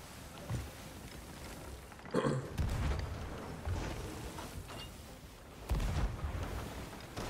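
Ship cannons fire in Sea of Thieves, several deep booms spaced a few seconds apart, one heavier blast in the middle, with distant rumbling and sea noise between them.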